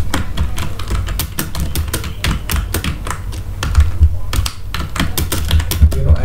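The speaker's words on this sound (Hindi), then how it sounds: "मैं इस टाइपिंग स्टार्ट करता हूँ" Rapid, continuous clacking of keys on a computer keyboard during a typing test, close and crisp with an even, busy rhythm and occasional heavier strokes.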